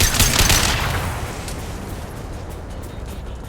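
A high-impact gunshot from Mass Effect Legendary Edition lands as one loud, broad blast at the start. It fades into a long rumbling decay with faint scattered cracks behind it.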